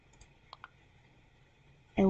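Two soft, close clicks from a computer mouse in quick succession, then a burst of talk cuts in at the end.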